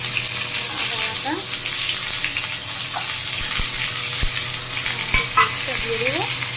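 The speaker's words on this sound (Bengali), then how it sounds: "তেলের মধ্যে জিরে ফোড়ন দিয়েছি" Cumin seeds and spices crackling in hot oil in a pan: a loud, dense sizzle with occasional scraping of a utensil and faint background sounds, close up.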